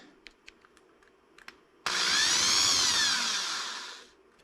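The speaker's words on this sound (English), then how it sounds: "just drill through it" A few light clicks and taps, then a power drill with a 1/4 inch bit whines loudly for about two seconds as it bores through a plastic Camaro hood louver, tapering off at the end.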